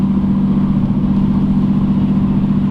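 Loud, steady engine and exhaust drone from a Lexus SC430, a deep continuous rumble heard up close with no talking over it.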